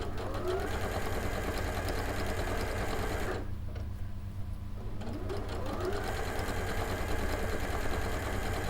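Domestic sewing machine stitching at normal stitch length in a sewing class, a steady continuous mechanical whir that pauses for about two seconds midway and then runs again, loud and close.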